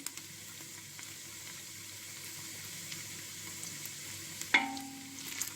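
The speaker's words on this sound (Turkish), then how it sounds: "Evet biraz da böyle kavrayayım. Salçasıyla kavrulsun." Tomato and pepper paste sautéing in a pan for a dried bean soup, giving a steady soft sizzle throughout with a brief sharper clatter of stirring near the end.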